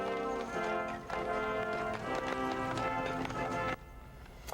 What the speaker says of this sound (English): a horse-drawn carriage carried the White House Christmas tree to the foot of the building today